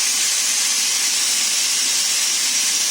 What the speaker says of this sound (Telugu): 1 విజిల్ ఫ్రెండ్స్